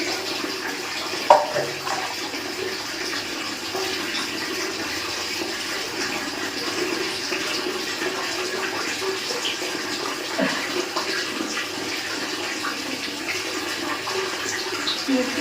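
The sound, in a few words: water running while washing face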